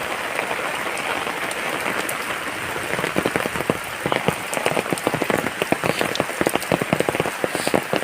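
Steady rain falls outdoors on a wet morning walk, with a dense hiss underneath and a growing patter of heavier drops from the leaves of big trees striking close by.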